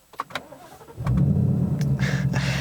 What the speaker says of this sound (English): And that active exhaust is the one thing this car truly needed